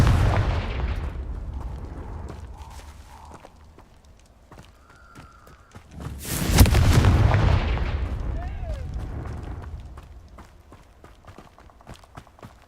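Fiery spell blasts from the Confringo curse in the Hogwarts Legacy video game: a sharp explosive boom around the middle swells loud, then fades into a rumbling tail, with smaller crackles and magical tones scattered before and after.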